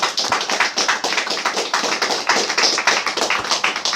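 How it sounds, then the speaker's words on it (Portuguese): Church congregation clapping hands in praise, a crowd of sharp, close claps in a quick, fairly regular rhythm, loud and continuous with no talking. "Palmas para o Senhor Jesus"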